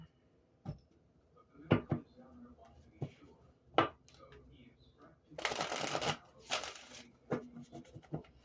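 An animal tarot card deck is handled and shuffled: scattered crisp taps and flicks, then two longer riffling bursts, close and fairly quiet.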